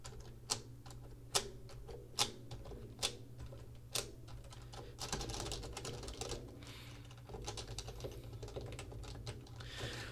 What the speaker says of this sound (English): when typing fast, you tend to hear more of the top sound like this.